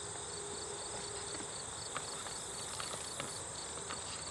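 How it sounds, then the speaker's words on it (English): Honey bees droning steadily around an open first-year hive in a beeyard during an autumn inspection, a continuous insect hum with a few faint clicks and soft knocks. "Lots of nice bees up here."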